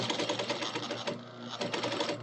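A sewing machine topstitches along a folded edge while the hand wheel controls the speed. It gives a close, loud, fast, even whirring rattle that dips briefly in the middle, with no talking.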